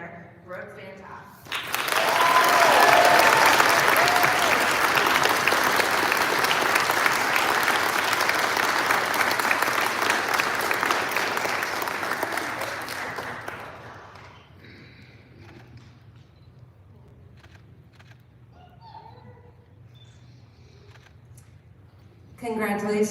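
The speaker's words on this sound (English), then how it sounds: "Please join me in a round of applause as we honor our 2025 CTA Character Award winner, Brooke Van Toff" Audience applause honoring a Character Award winner at a Creative Technologies Academy commencement, a broad loud wave of clapping lasting about twelve seconds before fading to scattered claps and quiet room noise.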